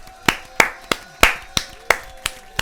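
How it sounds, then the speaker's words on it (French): A few people clap in a slow, steady rhythm of about eight sharp, separate claps, close and fairly loud, welcoming a 12-year-old girl onto a live stream. "on va l'applaudir, elle a 12 ans"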